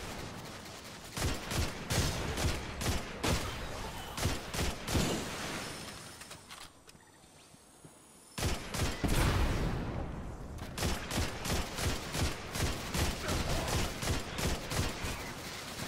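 Bursts of rapid gunfire from the video game Destiny 2, loud and close, firing in clustered volleys with a brief lull in the middle before heavy shooting resumes; no talking.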